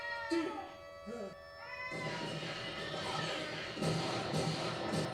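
A cat meowing in an episode of the Cowboy Bebop anime, a couple of short meows near the start followed by a busy, noisy soundtrack with what may be voices underneath.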